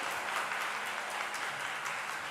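An audience applauding at a talk, dense steady clapping from many hands, moderately distant and continuous for a couple of seconds.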